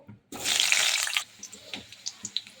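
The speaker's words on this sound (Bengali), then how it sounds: "এদিকে কড়াই গরম হয়ে গেছে, এবার আলুগুলোকে দিয়ে দেবো।" A sudden loud hiss as potatoes drop into hot oil in a wok, lasting about a second, then settling into faint scattered pops and crackles.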